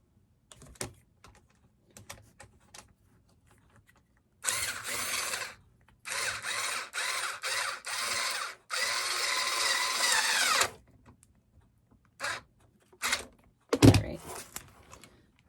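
A power drill whirs in several bursts of a few seconds each, with clicks and handling noises before and after.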